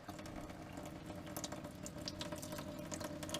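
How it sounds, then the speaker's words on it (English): Water runs steadily from a kitchen faucet into the sink of an older motorhome, a constant close splashing hiss with small spattering bursts throughout. "turned on the faucet here in the kitchen sink"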